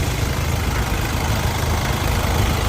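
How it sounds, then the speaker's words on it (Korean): A diesel engine in a used Hyundai LF Sonata idles steadily up close, a continuous low rumble with no voices. "엔진 상태 굉장히 조용하고 엔진 소리 이쪽에 누유음은 전혀 없습니다"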